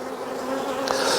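Honey bees buzz steadily around an open hive during an inspection, a close, continuous droning hum with a slight swell near the end.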